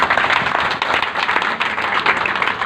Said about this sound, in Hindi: आइए अपने पहले हिंदू शेर भाई के लिए जोरदार तालियां।